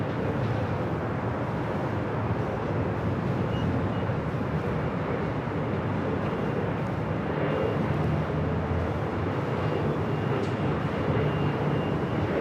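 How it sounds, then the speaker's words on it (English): A Qantas Airbus A380 arriving from Sydney lands at LAX on runway 24 right, a broad, steady engine roar heard from a distance throughout. "Qantas Flight 11, this flight coming in from Sydney on this A380 Super, number 3 for arrival here on the north side"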